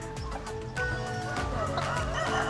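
Several Brahma chickens call in loud, overlapping honks and clucks on a farm, a busy flock close by with no one speaking.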